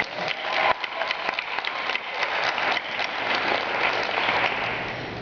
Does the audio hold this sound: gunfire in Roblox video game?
no